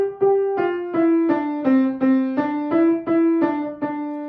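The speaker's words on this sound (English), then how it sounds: "the Ode to Joy theme from Beethoven's Ninth Symphony" Solo piano plays the Ode to Joy theme from Beethoven's Ninth Symphony, about ten clearly struck single notes in an even, stepwise rhythm, each ringing with bright overtones, close and alone with no talking.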